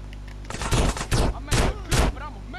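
Gunshots in GTA San Andreas: The Definitive Edition, four loud, close booming shots about half a second apart, ending in a headshot, with a steady low game hum underneath.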